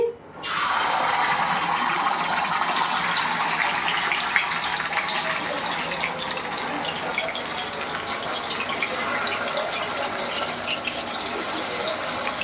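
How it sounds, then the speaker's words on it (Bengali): Pieces of rohu fish dropped into hot oil for deep frying, setting off a loud, dense, continuous hiss and crackle that begins abruptly and holds steady at close range, with no speech. "এবার তেলটা গরম করে রেখেছি, এই গরম তেলে মাছগুলোকে ছেড়ে দিচ্ছি।"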